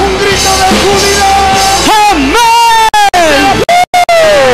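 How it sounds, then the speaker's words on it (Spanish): A church congregation at an anniversary celebration raises a loud shout of joy, with strained, gliding voices yelling and whooping close by in a few bursts separated by brief gaps. "Un grito de júbilo."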